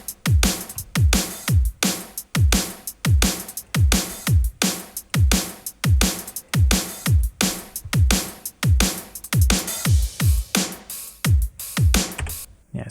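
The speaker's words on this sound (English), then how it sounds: "Altogether, the drum bus sounds like this." Mixed drum bus from a rock track, with punchy kick and snare hits in a steady driving beat, cymbals washing on top, loud and close with no voices.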